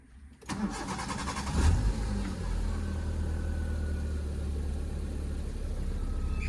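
A Maruti Zen Estilo petrol car with 66,296 km on it cranks briefly and fires up, then settles into a steady, smooth idle that hums on close by with no talk.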